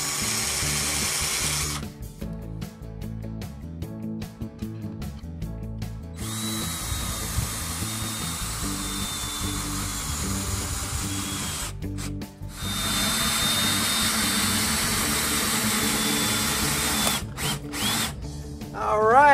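A power drill whines in repeated bursts while driving screws into deck boards on a shed ramp, with short pauses between screws and steady motor buzz close up.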